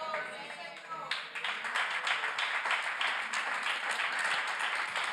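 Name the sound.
congregation applauding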